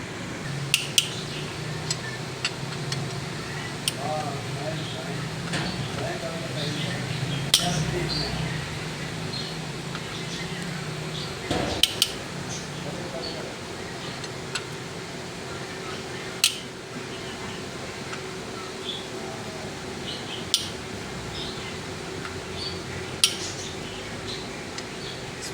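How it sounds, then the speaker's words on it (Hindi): Bolts being removed from the transmission chamber of a 2018 Honda Civic with a gear failure: sparse, sharp metallic clinks and taps at irregular intervals over a quiet workshop background. "इसमें बहुत सारे बोल्ट लगे होते हैं चैम्बर को, वो सारे खोलेंगे स्टेप बाय स्टेप"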